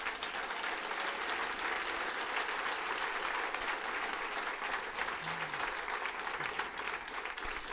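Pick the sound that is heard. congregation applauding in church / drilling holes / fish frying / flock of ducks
congregation applauding in church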